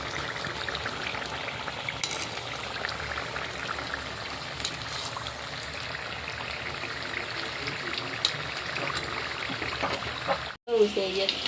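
Samosas deep-frying in hot oil give a steady, close bubbling sizzle that runs continuously, with a brief dropout near the end before the frying resumes.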